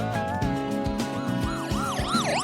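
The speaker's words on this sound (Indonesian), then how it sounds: "Contoh dalam kehidupan sehari-hari adalah berubahnya suara ambulan ketika menjauh dan" A loud wailing siren close by, its pitch sweeping up and down in repeated arcs over rumbling traffic.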